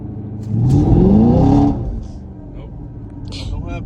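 A 2022 Camaro SS 1LE engine revs up hard for a foot brake launch, climbing for about a second before dropping back to a lower rumble, with faint voices nearby.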